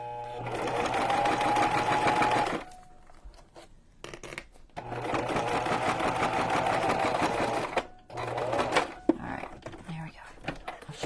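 A sewing machine stitches a junk journal cover in bursts of rapid mechanical whirring separated by brief pauses, close by and loud, with a voice speaking quietly in between.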